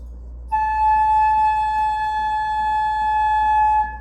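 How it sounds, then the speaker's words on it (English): A single sustained flute tone starts after a brief pause and holds steady and clear for about three seconds before cutting off. "so we're blowing into the flute."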